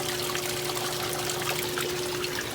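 A backyard pond water wheel sends water splashing and trickling in a steady, unbroken close rush, with a low constant hum beneath it.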